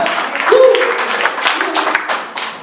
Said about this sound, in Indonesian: Tepuk tangan bagi yang ketiga, haleluya.